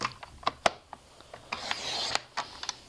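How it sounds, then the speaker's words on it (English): Paper trimmer slicing through an A4 sheet of shimmer card, giving a series of short close rasping, ratcheting scrapes with sharp clicks as the blade runs along. "First of all, we're going to cut our card."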